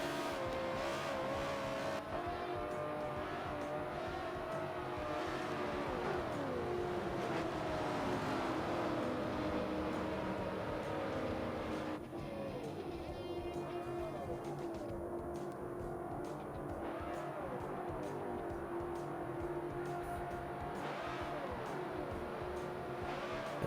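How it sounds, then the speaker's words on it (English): Race cars circle Daytona International Speedway at night during the PPRL Spooky 300 under caution, a dense steady drone of engines with rising and falling pitch sweeps as cars pass by, with no talking. "As we see Random Shy, race leader here at Daytona International Speedway."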